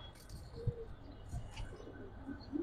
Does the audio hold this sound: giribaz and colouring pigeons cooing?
yes